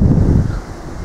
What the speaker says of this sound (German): Ist wieder ein bisschen windig